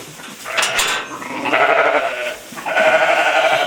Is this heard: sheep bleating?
yes